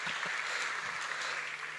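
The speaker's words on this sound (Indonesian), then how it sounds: "Kalian kasih tepuk tangan dulu ke Pak William." Steady applause from a crowd at a crypto summit, a dense wash of clapping that holds evenly throughout without pause.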